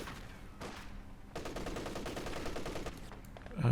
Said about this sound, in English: So he's gone for double machine guns.